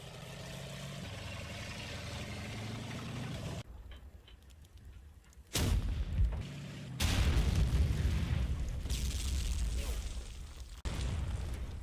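A 6-pounder anti-tank gun in Combat Mission fires with abrupt, loud booms, each followed by rumbling echo, amid quieter battlefield ambience and a narrating voice.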